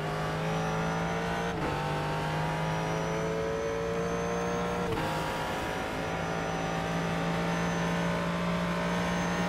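A Ford GT3 race car in the iRacing sim at Sebring International holds a steady, loud engine drone for the whole stretch, its pitch dipping briefly twice as if on gear changes or lifts, with no talking over it.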